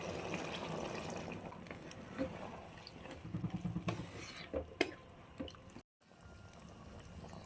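Water splashes and sizzles into a hot pan of chicken, with soft stirring and clinks close by; a short dropout near the end.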